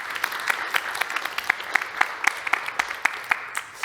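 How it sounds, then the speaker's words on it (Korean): A large audience at a public presentation on revamped training for new labor inspectors applauds warmly, with dense, sustained clapping and distinct individual claps popping out of the steady wash. "수고하신 두 분께 큰 박수 부탁드릴게요."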